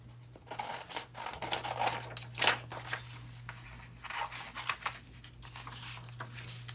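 Scissors snip out a paper label for a junk journal, giving a few crisp, close cuts with light paper rustling over a steady low background hum.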